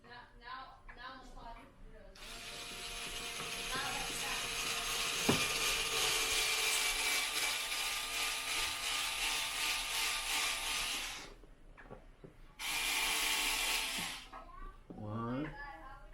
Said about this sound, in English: So then grab your little drill gun with the bit ready.